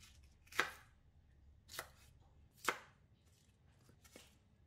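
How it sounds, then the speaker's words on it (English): A knife chops through bok choy stems on a cutting board, five distinct crisp cuts spaced about a second apart, close but fairly quiet, with no talk. "Cut the bok choy stem into quarters and set aside"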